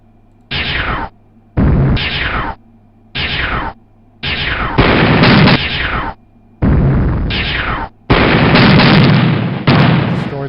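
Spaceship weapons firing in the 1998 video game Junior Spacewar: loud, harsh bursts of blasting noise in repeated blocks of about a second, separated by short silences, growing longer and denser toward the end, with no voices.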